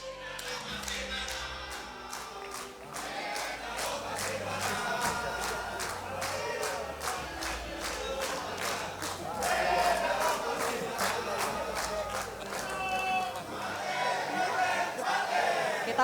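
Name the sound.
supporters chanting cheers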